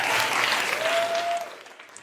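Group applause at a community theatre gathering, a short burst of clapping from people standing in a circle that fades out within two seconds.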